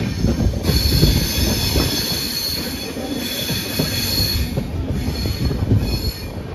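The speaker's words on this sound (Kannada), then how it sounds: "Davanagere railway station. ಇದು ಅಪ್ರಾಕ್ಸಿಮೇಟ್ಲಿ 4 ಮಿನಿಟ್ ಹಾಲ್ಟ್ ಆದಮೇಲೆ ನಾವು ಹೊರಟ್ಬಿಟ್ಟಿದ್ದೀವಿ" Hubballi–Bengaluru Jan Shatabdi Express pulling out of Davanagere station, heard from aboard: a loud, continuous rumble of wheels on rail with steady high squealing from the wheels, no voices.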